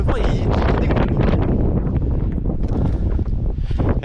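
Steady, gusty wind buffets the microphone on a mountain hike in the Pyrénées-Orientales, a loud continuous roar and rumble with no break across the whole stretch.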